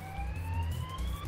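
A police car siren in the chaotic car-chase video game Switchcars wails steadily and loudly with rising tones over a low engine rumble, heard briefly without talk.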